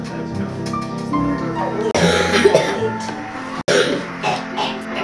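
Someone with a phlegmy cough coughs repeatedly in harsh, close bursts, mixed with throat clearing, while background voices and noise continue.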